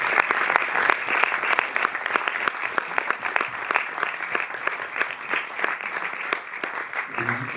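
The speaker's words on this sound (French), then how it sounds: "on peut remercier, applaudir les 2 producteurs du film, Charles-Philippe et Cédric" A cinema audience claps steadily for the film's producers after a screening, dense applause that stays even and sustained throughout with no voices standing out.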